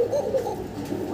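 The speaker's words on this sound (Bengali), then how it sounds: "কোকার ডাক শুনলেন দর্শক" A male pigeon gives a low, throaty coo, a short rolling call heard close and fairly loud against a quiet background.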